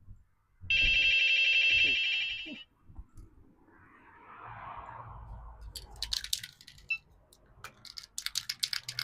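An electronic telephone ring sounds loudly for about two seconds and then stops, followed by quieter rustling and handling noises in a home garage setting.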